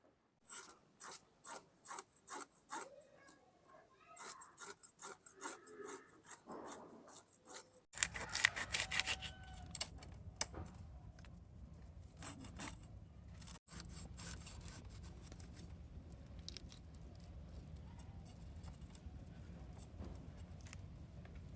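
Cheng fish being cut and scraped clean with ash by hand, repeated rasping scrapes and rubbing strokes, close and fairly quiet, continuing as a steady gritty rub.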